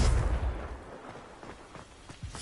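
A Confringo explosive spell going off in Hogwarts Legacy: a heavy low boom right at the start that rolls away into a fading rumble, followed by a few scattered soft pops.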